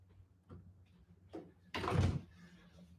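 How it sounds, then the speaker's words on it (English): A door swings shut in a karate training hall with a single solid thunk, preceded by a few faint shuffles and light knocks nearby. "Okay, just going to close that door."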